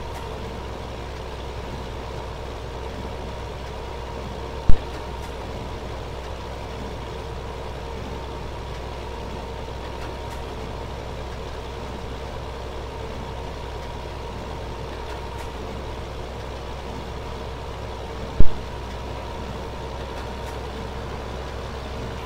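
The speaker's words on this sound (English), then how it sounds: "this tractor does struggle up this hill" A farm tractor in Farming Simulator 15 labors uphill with a steady, droning engine hum that stays constant throughout, broken by two brief sharp clicks.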